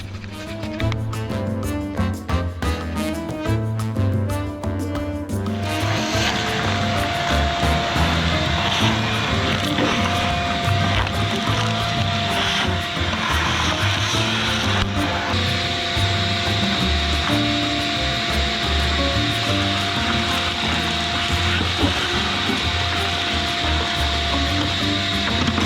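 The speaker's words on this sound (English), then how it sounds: "you can vacuum this thing all you want" A loud vacuum cleaner runs steadily, sucking broken glass out of the rear hatch area of a Jeep XJ Cherokee, with clattering and rattling at first before settling into a continuous high-pitched whine.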